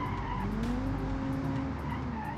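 An AWD hatchback in the BeamNG driving game held at full throttle, its engine droning steadily and loudly while tires squeal and skid continuously throughout, with no speech.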